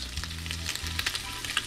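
Jack crevalle fillets with lemon fry over high heat in a pan, a steady close sizzle with crackling spits running through the whole moment, no voices.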